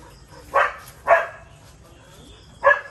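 A dog on a farm in Surat Thani barks three times, two quick barks close together and then one more after a pause, fairly near over quiet background.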